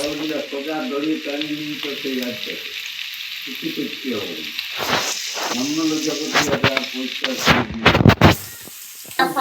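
Small village fish frying in hot oil, a steady close crackling sizzle running the whole time under a person talking over it, with a few louder bursts of spatter near the end.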